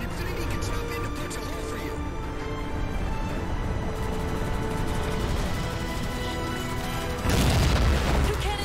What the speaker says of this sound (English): So it's the big guns that shoot explosive rounds at me.